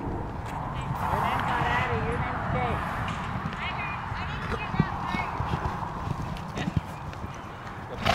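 Horse hooves clip-clopping at a steady pace while ridden, footfalls moderately close under wind and background noise, with people talking nearby.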